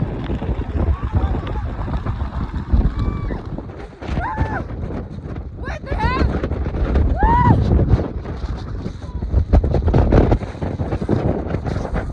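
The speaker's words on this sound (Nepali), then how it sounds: "यस्तो डेन्जर हावा चलाइराखेको गयो" Strong wind buffets the microphone with a constant roaring rumble, punctuated by brief whistling tones and faint voices now and then.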